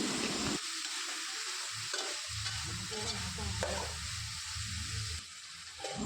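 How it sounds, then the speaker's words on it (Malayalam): A spice mix for chicken curry sizzles steadily in a pan while it is sautéed, with repeated stirring scrapes running through the continuous frying hiss. "ഇനി നേരത്തെ എടുത്തു വെച്ച മിക്സ് എല്ലാം ഇതിലേക്കിട്ട് നന്നായി വഴറ്റിയെടുക്കാം."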